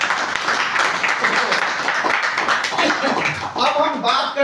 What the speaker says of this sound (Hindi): जोरदार ताली बजाइए इन तीनों रिश्तों के लिए